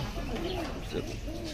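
Fancy pigeons, including white and ash-grey breeds, coo in soft, repeated rolling calls close by, one overlapping another against a steady background hum.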